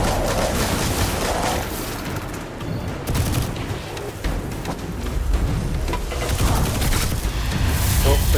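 Sustained gunfire as enemies are shot in the sci-fi shooter Destiny 2, dense overlapping shots and blasts forming a continuous loud barrage with heavier booms in places.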